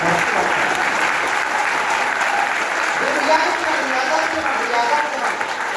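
Audience at a business talk breaking into sustained applause, a dense even roar of clapping that holds steady, with faint voices mixed in beneath.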